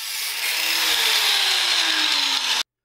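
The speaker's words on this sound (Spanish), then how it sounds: "tenemos tres tornillos largos y una radial con un disco de corte" An angle grinder fitted with a cutting disc bites through long screws, giving a harsh, loud high-pitched whine and hiss with a slowly falling tone, steady for a few seconds before stopping abruptly.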